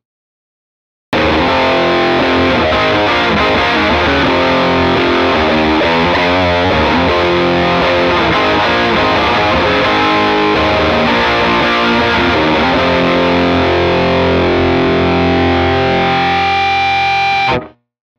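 A distorted electric guitar through a SonicTone Royal Crown 30 (RC30) 30W British rock tube amp on hot mode plays a continuous, loud overdriven riff with sustained chords and runs, ending abruptly.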